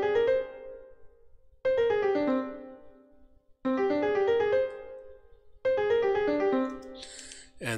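Four bursts of a bright, harmonic instrumental figure played in separate phrases, each ringing out and decaying before the next, as ramps, hops and rolls material for composing.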